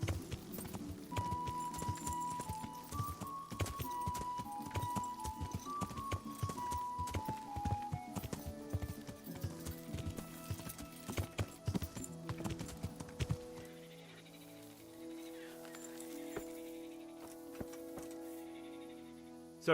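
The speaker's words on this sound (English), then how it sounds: "Learn how to ride a horse" Horse hooves clip-clop at a steady canter in Kingdom Come: Deliverance, medieval role-playing game, repeated rhythmic thuds under a melodic music score that thins out near the end.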